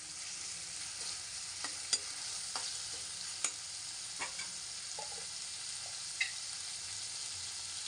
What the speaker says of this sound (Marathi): एक मोठा टॅमेटो घेतला मी बारीक चिरलेला आणि व्यवस्थित परतून घेऊया